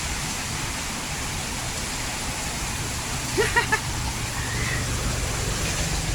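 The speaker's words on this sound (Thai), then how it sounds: "ฝนตก" Rain falling in Bangkok during a windy downpour, a steady, even hiss throughout with a few brief faint sounds in the middle.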